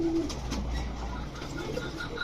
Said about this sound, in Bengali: সবুজ গলা বুধাপেস্ট ফ্যাটের একটা নর কবুতর